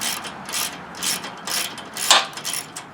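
A ratchet wrench removes bolts on a go-kart live axle fitted to a converted Craftsman tractor, clicking in short, close, repeated bursts of several strokes each.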